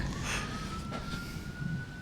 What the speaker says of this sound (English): It's raining and sirens.